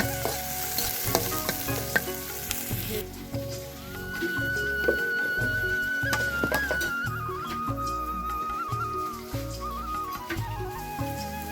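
Onions and chilies fry in a pan for a pea khichuri, giving a steady close sizzle with repeated stirring scrapes and clatter throughout, and a thin tonal whine drifting in the background partway through.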